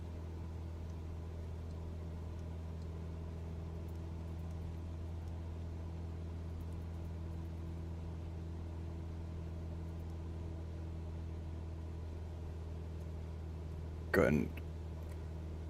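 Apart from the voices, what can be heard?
Cessna 172 engine in Microsoft Flight Simulator 2020 video game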